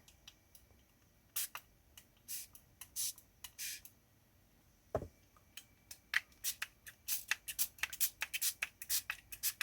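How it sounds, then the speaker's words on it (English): Short hissing bursts of a spray bottle spraying water onto watercolor paper, several quick spritzes in irregular clusters, close and fairly crisp, with no talking. "let's just go and spray a little bit"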